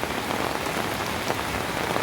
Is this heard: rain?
yes